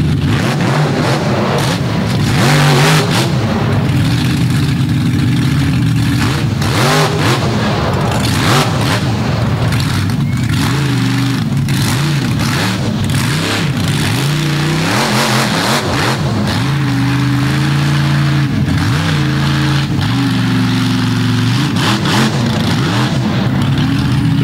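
A drag race car at Dragway 42 with handling trouble revs and runs through a long, loud, continuous engine roar with shifting pitch and surges, heard fairly close with no talk.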